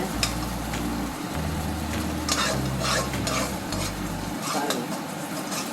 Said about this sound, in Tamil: இஞ்சி பூண்டு எல்லாம் போட்டு நம்ம வதக்கிட்டோம் எண்ணெயில்